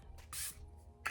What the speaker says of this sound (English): we're gonna lock it all in with our Until Dawn spray